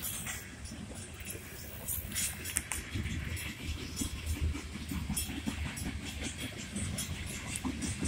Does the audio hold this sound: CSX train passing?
yes